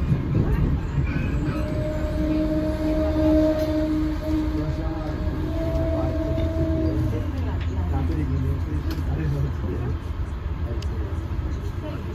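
Rumble and steady rail noise aboard CT Rail train 4407 between Springfield and New Haven, with long sustained horn tones sounding through the middle of the ride, a Blueprint-type horn, heard from inside the car.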